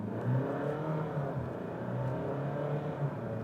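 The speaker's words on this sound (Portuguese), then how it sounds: "Fazer aquela nossa largadinha estolada e vamos acelerar tudo, ó." A Fiat Toro Volcano diesel 4x4 pulls away hard from a standstill, its engine note climbing steadily under load at close range, heard alone without talk.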